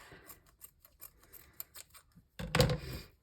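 Scissors snipping lace off a thrifted shirt, a series of quiet, evenly spaced close cuts followed by one louder, longer snip near the end.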